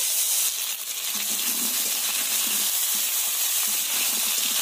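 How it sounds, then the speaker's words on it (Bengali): Long-cut potato sticks fry in hot mustard oil with black cumin, giving a loud, steady, close sizzle that hisses evenly throughout with no talking. "এমন লম্বা লম্বা করে আলু কেটে নিয়েছি, সেগুলো দিয়ে দেব ভাজার জন্য।"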